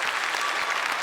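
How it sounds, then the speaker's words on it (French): Studio audience on a French television variety show applauding, a dense, steady wash of clapping that holds loud and even throughout. "Applaudissements."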